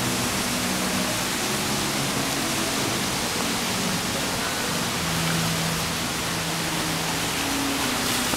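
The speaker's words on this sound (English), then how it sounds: "Lots of fountains, very beautiful." Resort fountains at the Majestic Colonial splash continuously in a steady, dense wash of falling water, loud and close with no talk over it.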